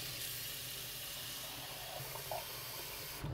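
Cold water pours steadily from a tap into a bowl, a constant rushing splash that holds for a few seconds before cutting off.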